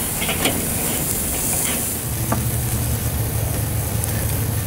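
Burger patties sear on the sear side of a grill, a continuous loud sizzle and crackle with occasional sharper pops.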